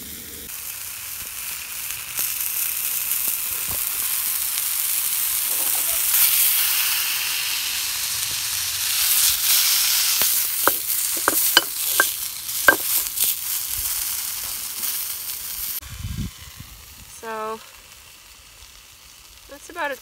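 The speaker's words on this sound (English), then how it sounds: "My sausage is well done though, so I'm gonna let them cook for a little bit." Sausages sizzling over a wood stick stove outdoors, a broad hiss of cooking that rises and falls, dotted with sharp pops and crackles, then a few clicks and faint voice-like sounds near the end.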